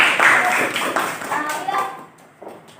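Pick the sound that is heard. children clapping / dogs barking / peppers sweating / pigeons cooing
children clapping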